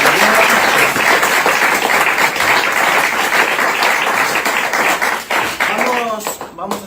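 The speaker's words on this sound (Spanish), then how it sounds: "Un fuerte aplauso para Luis y para los" An audience at a literature book presentation applauds Luis with a loud, sustained burst of clapping that thins out near the end, with voices mixed in beneath it.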